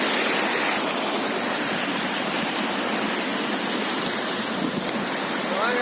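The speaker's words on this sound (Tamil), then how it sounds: "இப்போ இந்த மழைக்கு மேலே இருந்து தண்ணி வருது" Rainwater pours down from above in a dense, continuous rushing splash, loud and close, with no break in the flow.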